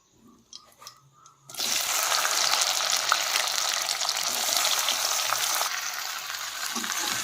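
Okra (bhindi) hits hot oil in a home kitchen: after a quiet moment a loud, steady sizzle bursts in and keeps crackling evenly to the end, close and with no talking.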